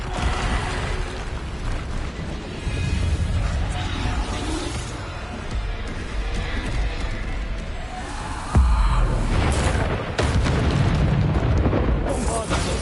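Bombarda blasting spells from Hogwarts Legacy burst in repeated heavy booms and crashes over a loud, rumbling combat mix, with one especially strong blast partway through and voices heard amid the fighting.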